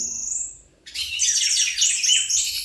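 An orange-headed thrush delivers a bright, rapid run of high whistled notes, clear and fairly close, after a brief faint call.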